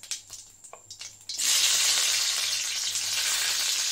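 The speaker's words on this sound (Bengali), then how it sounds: "জিরা ফোড়ন দিচ্ছি, তারপর দিয়ে দেবো পেঁয়াজ" Whole cumin seeds hit hot oil in a pan: a few light clicks and taps, then a sudden loud, steady sizzle that fills the rest of the clip close up, with no voices.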